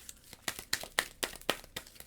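Game cards for Marvel Champions riffled and shuffled back into a deck, a series of close, crisp papery snaps and rustles repeating in quick, fairly even bursts about every quarter second, with no talk.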